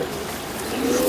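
Pigeons coo softly at a loft with pigeon keepers, a low steady murmur of cooing running through a little over a second, close and fairly even.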